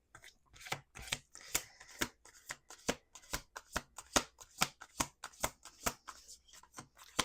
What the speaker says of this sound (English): We're gonna do 2 more shuffles.